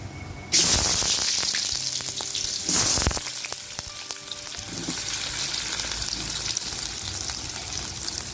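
Small onions (shallots) sizzle loudly in hot oil with popped mustard seeds, with a steady crackling fry and occasional stirring sounds from a pan nearby.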